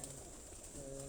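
Racing pigeons give soft, low coos at close range, faint and brief against a quiet background hum.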